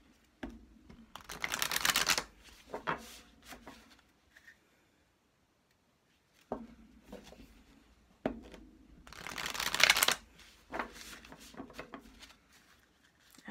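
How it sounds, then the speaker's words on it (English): A deck of playing cards being shuffled in two bursts of quick riffling, each followed by lighter tapping and squaring, fairly close, with a quiet pause between. "The texture of the cards is perfect. Makes shuffling very easy."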